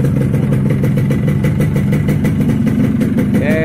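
A Yamaha RX Special motorcycle, freshly kick-started after carburetor tuning, idles steadily and close by with a dense, even engine drone and mechanical clatter across the whole stretch.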